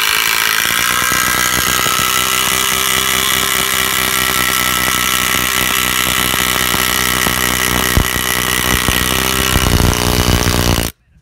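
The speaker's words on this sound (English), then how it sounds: "We're going to use these 250mm Torquex screws, this Makita impact driver," A Makita impact driver sinking a long 250mm Torquex screw into timber during garden room base construction, a loud continuous buzzing hammer-drive lasting about eleven seconds before cutting off abruptly.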